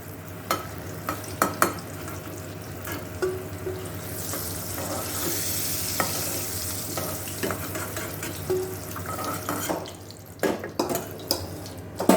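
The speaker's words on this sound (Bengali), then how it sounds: "শুধু পটলই নয়, আমাদের পটলের খোসাগুলোকেও কিন্তু এই যে মুখগুলোকে এগুলোকেও কিন্তু ভাজতে হবে।" Pointed gourd (potol) fries in hot oil in a pan: a continuous close sizzle with scattered sharp clinks and scrapes of a utensil against the pan.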